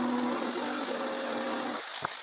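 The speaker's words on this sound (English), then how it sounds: "I draw the shape and I cut with my jigsaw" A jigsaw cuts through a wooden pallet board with a steady, buzzing whine that holds for nearly two seconds and then stops, followed by a brief knock.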